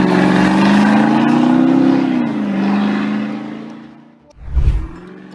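A rebuilt 1998 car's engine runs loud and close with a steady, droning idle, then a short deep revving surge near the end.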